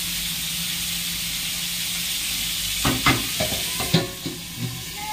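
Pointed gourd (potol) frying in oil in a pan gives a constant close hiss and sizzle, joined near the end by several quick scraping and knocking strokes of a spatula against the pan.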